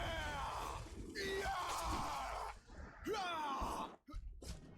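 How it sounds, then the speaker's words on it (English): A man screams and groans in a video game, several strained drawn-out yells rising and breaking off, with short pauses and game noise in between. "Why do I hear a man screaming?"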